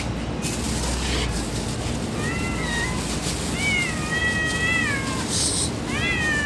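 Several pet cats, two of them lame, meow repeatedly in close, rising-and-falling calls that overlap over a steady background rumble.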